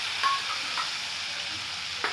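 Lemon juice being stirred into frying lemon rice, a soft steady hiss of sizzling with faint spoon scrapes, quiet and without talking.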